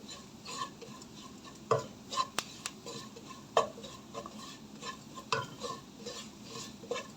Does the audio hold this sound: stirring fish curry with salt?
yes